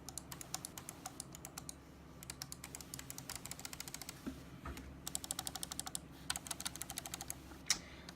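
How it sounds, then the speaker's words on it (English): A Creative Sound BlasterX gaming mouse having its buttons clicked: rapid bursts of sharp, close-up clicks in quick runs, pausing briefly between groups, recorded quietly with no voices. "if you want a sound example of the clicks"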